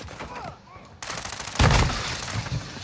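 Gunfire in Warzone 2.0, with bursts of rapid automatic shots punctuating the game audio, loudest midway, amid faint background voices.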